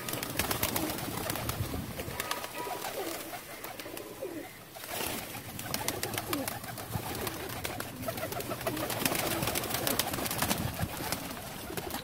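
Flying pigeons kept for sale coo repeatedly in a bird loft, soft throaty calls overlapping one another against a constant rustle of many birds close by.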